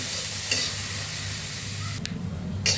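Potatoes frying in a pan with a continuous soft sizzle, punctuated by a few short scraping stirs, fairly quiet and close, with no voices.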